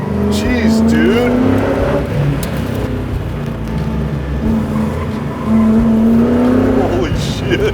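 A 750 hp 1970 Plymouth Cuda roars loudly from inside the car as the engine revs and pulls through the gears, the pitch rising and dropping while people talk over it.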